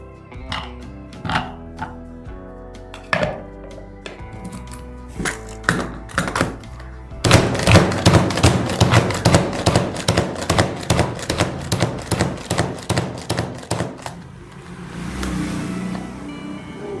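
Manual punch chopper dicing vegetables: a few spaced thumps at first, then a fast steady series of loud, sharp plunging clacks, close and with no talk.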